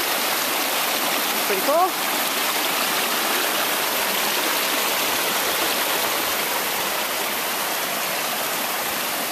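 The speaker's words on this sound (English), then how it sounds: "is the spring that feeds Wahkeena Creek" Spring-fed Wahkeena Creek in the Columbia Gorge rushing steadily in a dense, loud broadband wash with no break, while someone briefly speaks over the water.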